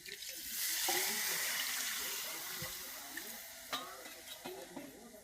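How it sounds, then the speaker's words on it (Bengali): Water poured into a pot of cooking chicken and fried potatoes, a gushing hiss that swells over the first seconds and then settles. Scattered clinks and soft stirring knocks follow near the end. "এবার জল দিয়ে দিবে।"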